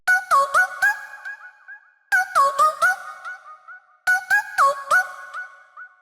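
A vocal chop synth from Serum with noise layered in, chirping in short pitched syllable bursts repeated three times in a bouncy pattern, each phrase trailing into a held tone, clear and alone.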